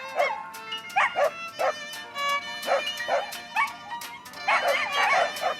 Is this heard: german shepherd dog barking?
yes